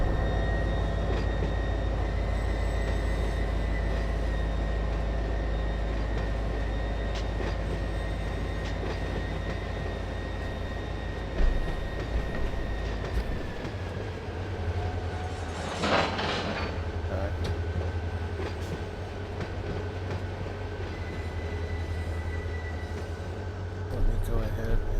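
A train running in the Run8 V2 rail simulator game, a sustained low engine rumble and tonal hum with rail clatter, shifting in pitch midway, with a burst of hissing noise and talking at times.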